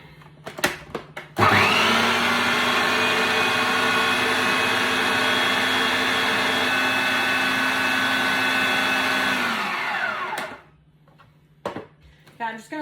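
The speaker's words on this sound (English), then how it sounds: "So I'm going to blend that up," A kitchen blender whirs loudly and steadily for about nine seconds, blending a chocolate almond bliss ball mixture with cocoa, then winds down; brief clatter before and after.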